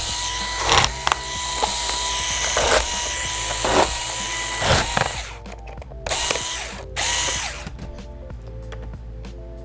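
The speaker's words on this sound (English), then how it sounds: "So you just want to flip the unit over and loosen the bottom cover screws." Bottom cover screws on a Dell Chromebook 11 3110 are loosened with a screwdriver, producing close, repeated clicking and ratcheting scrapes over a steady background hum, with no talking.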